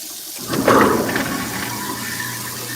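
Water from a kitchen faucet rushes into a sink for a rinse, starting abruptly and then flowing in a steady, moderate splash.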